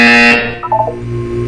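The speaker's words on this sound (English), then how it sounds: "You will hear a buzzer." In the game Portal 2, a single loud electronic buzzer blares for a fraction of a second and cuts off, followed by a brief wobbling tonal tail, with no talking.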